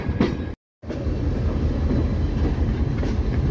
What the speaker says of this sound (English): Always a good day when I get to ride the locomotive.